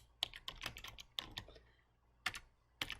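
Keys on a computer keyboard click in short, quiet bursts: a handful of sharp taps grouped in small clusters with brief pauses between them, close to the microphone in a quiet room.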